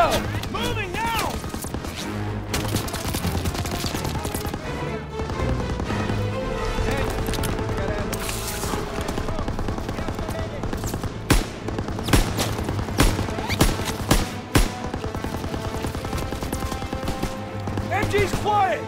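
Wartime battle in Call of Duty WW2 with machine gun and covering fire, dense bursts of gunfire and crashes running continuously under shouted voices, loud and busy throughout.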